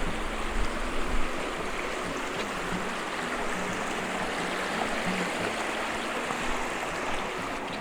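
White water rushes along Koreelah Creek at the campground in a dense, constant hiss and roar. It sounds close and steady, with no voices over it.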